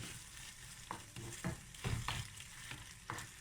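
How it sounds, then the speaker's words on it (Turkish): Ground meat seasoned with salt and black pepper sizzles quietly in a pan while a utensil scrapes and stirs it in irregular strokes. "Bunu da karıştırıyorum."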